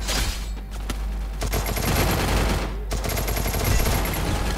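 Rapid gunfire from the Free Fire battle royale video game, dense bursts of automatic shots landing a headshot, loud and continuous with brief gaps between volleys.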